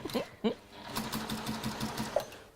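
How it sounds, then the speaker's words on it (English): A domestic sewing machine runs in a short, steady mechanical burst with a rapid rhythmic clatter, loud and close. A brief voice is heard at the start. "noise is why people are scared of sewing machines"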